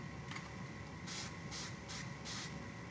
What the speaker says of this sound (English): I have to go in and spray some more